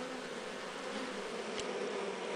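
Honey bees buzzing steadily inside a hive during a queen change, a dense continuous hum close by with no voices.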